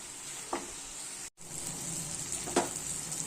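Chichinga (snake gourd) frying in a pan, giving a steady soft sizzle with a couple of brief stirring scrapes; no talk.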